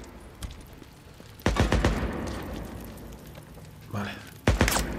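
A shotgun fires in the video game Days Gone, two loud sharp blasts about three seconds apart with a smaller thump between them, all over a noisy game background.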